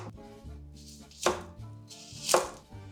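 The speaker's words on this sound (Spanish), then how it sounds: "Cortamos al medio para que sea más fácil picarlas y les quitamos toda la cáscara" A knife chops onions on a board in a home kitchen, giving a few sharp, close cutting strokes with quiet handling sounds between them.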